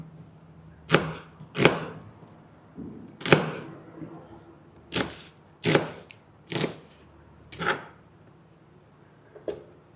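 Knife chopping vegetables such as onion and ginger on a cutting board during a raw veggie cooking demonstration: about nine separate sharp thunks spaced irregularly, close and fairly crisp against a quiet background.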